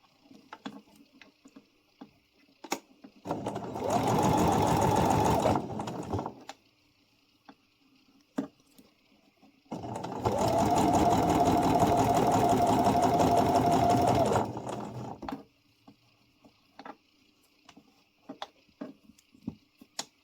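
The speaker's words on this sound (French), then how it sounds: "on continue notre couture" A sewing machine stitches a pompom scrunchie in two sustained whirring runs, each several seconds long, with quiet handling clicks and rustles in the pauses between them.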